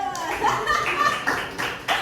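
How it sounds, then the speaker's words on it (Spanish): A classroom of students applauding a classmate, a few seconds of scattered, uneven clapping close by, mixed with voices talking. "un aplauso para Juanita"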